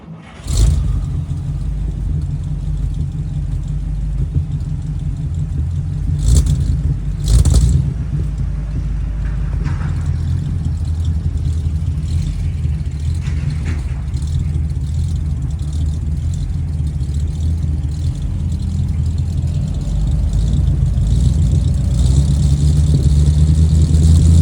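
A 1950 Oldsmobile 88 with its 303 Rocket V8 cranks and catches with a sharp burst, then settles into a deep, steady rumbling idle recorded close up, with a couple of brief blips and a slight rise near the end.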